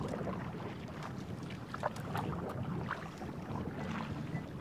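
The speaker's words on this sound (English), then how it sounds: "Also extremely windy right now" Steady gusty wind buffets the microphone with a low rumble, broadband and continuous, with faint water and rustling underneath, on a canoe trip in Canada's boreal forest.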